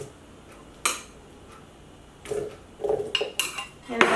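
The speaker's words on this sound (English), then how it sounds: "I'm gonna add the 2 cups of hominy." Hominy scooped into a blender jar for pozole, giving several clinks and clatters of utensil and container in a quiet kitchen, a sharp knock near the start and a busier run of bumps toward the end.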